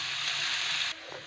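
Spices tempering in hot oil for a Kannada-style greens curry (soppina ogarane) give a loud, dense sizzle that runs steadily for about a second and then drops abruptly to a quieter crackle.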